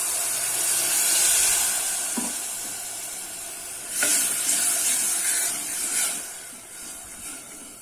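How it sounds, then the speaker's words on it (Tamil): A cup of water hits hot spiced masala frying with chilli powder and garam masala in a pan for salna, setting off loud hissing steam that flares again in a couple of sharp bursts before settling. "இப்போ நான் ஒரு கப் அளவுக்கு தண்ணி ஊத்துறேன்."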